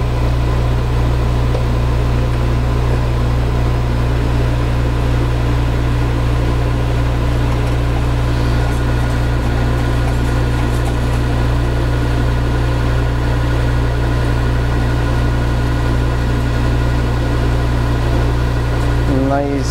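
Metal lathe cutting a metric internal thread, spinning at about 600 RPM, gives a steady, loud, close mechanical hum with a constant low drone and faint whine, unchanging throughout.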